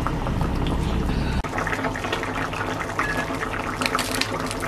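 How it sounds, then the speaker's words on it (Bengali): Chital fish muitha simmers in a curry, a dense bubbling and liquid gurgle close by, with a sudden shift partway through and light spattering toward the end. "এবার কিছুক্ষণ সিদ্ধ হতে দেব।"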